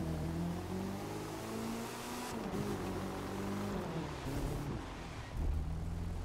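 Game car engine from The Crew 2 droning steadily with shifting pitch as the vehicle drives, bounces and brakes into stoppies, a continuous mid-loud motor hum with no talk.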